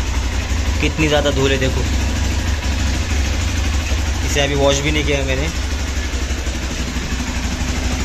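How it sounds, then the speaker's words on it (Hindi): A Hero Xpulse 200 4V motorcycle idles after a cold start, having sat unused for a month. Its steady, low, even engine hum runs throughout while someone talks over it. "आप देख सकते हो बाइक अभी आइडल तो होने वाली है, जब 1000 RPM पे आ जाएगी तब इसे बंद कर देंगे।"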